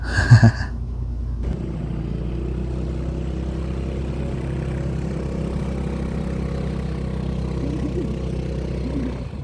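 A motorcycle labors up a steep highland road, a steady mid-pitched engine drone that holds continuously and fairly loud after a brief burst at the start.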